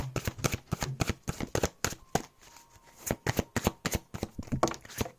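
Oracle cards are riffled and shuffled by hand in a quick, uneven series of crisp papery snaps and flutters, close and fairly loud, with a short pause in the middle before the shuffling resumes.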